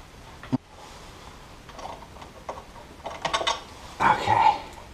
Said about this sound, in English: we're going to use a ball head 5mm. It really makes it fairly easy to back these last three motor mount 5mm hex heads out.